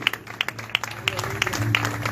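Rhythmic group clapping from a worshipping congregation at a Spanish-language church service, even beats landing over a low sustained tone while a voice speaks over it.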